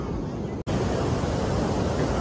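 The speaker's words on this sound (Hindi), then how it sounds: "थोड़ी लहरें, अभी हाई टाइड का टाइम है मॉनसून के कारण" Monsoon high-tide waves at Colva Beach in South Goa make a loud, continuous broadband roar of surf with heavy wind rumble, broken by one momentary dropout.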